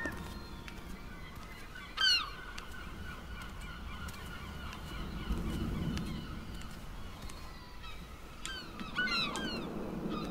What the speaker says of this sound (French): le cri des oiseaux, c'est pour ça?